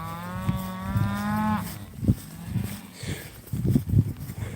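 Cattle in a pasture checked on horseback, with one long, loud, close moo followed by hoof thuds, shuffling and faint background noise.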